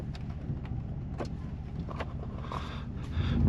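A car on a test drive gives a low, steady engine hum with a few faint clicks and rattles inside the cabin, and the rumble swells near the end.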